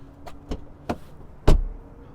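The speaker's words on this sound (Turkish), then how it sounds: "Bu arada bir kapı sesi dinleteyim size." Door of a BMW i5 M60 xDrive electric car: three light clicks followed by one solid, close thud as the door shuts, with quiet between the sounds.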